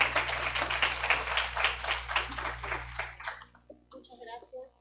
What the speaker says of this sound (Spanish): Bienvenida, con un fuerte aplauso la recibimos.